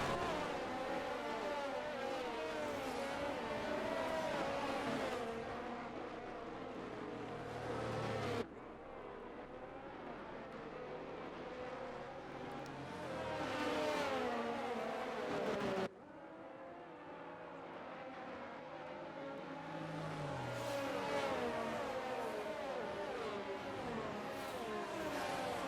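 Race cars roaring around a track in the F1 22 video game at the Australia round, engines rising and falling in steady pitch sweeps, loud and continuous with abrupt cuts between passages.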